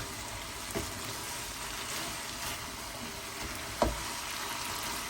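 A potato and eggplant curry, aloo baigan, cooks in a pot, giving a continuous loud sizzling hiss broken by a couple of sharp clunks as it is stirred.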